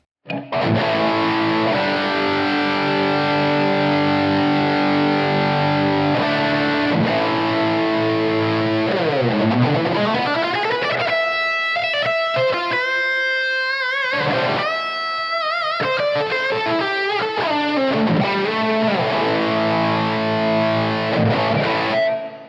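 Electric guitar played through a Blackstar ID-X amplifier on its cathedral reverb setting, heard alone and loud: sustained distorted chords and sliding notes ringing into a long, washy reverb tail, with no talking.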